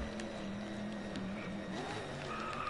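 Venom GT supercar in the Driveclub racing game, its big rear-mounted engine droning steadily with a sustained tonal roar and faint tire noise, moderately quiet and continuous throughout.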